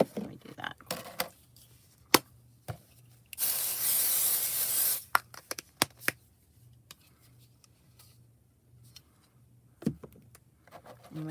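A single spray bottle gives a steady hissing burst lasting about two seconds amid quiet tapping and handling noises, close by.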